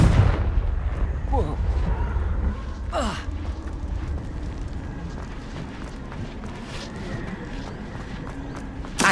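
A Confringo fire blast spell in the game Hogwarts Legacy, with a booming low blast rumbling up front, then whooshing bursts and a sharp crack over a fading rumble, with a gasping voice.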